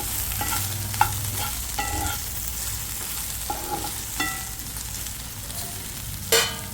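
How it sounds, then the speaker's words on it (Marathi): Okra (bhindi) sizzles in a pan while being stirred, with several scraping strokes of a spatula at uneven intervals over a steady frying hiss. "मध्ये मध्ये आपण झाकण काढून मस्त भेंडी परतून घ्यायची आहे"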